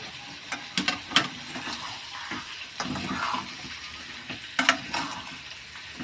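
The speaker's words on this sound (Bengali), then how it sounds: "ভালো করে এটাকে কষিয়ে নেব" Chicken curry with a pinch of sugar being sautéed in a pan, giving a soft low sizzle with several brisk bursts of spoon scraping and stirring, close and moderately loud, with no talk.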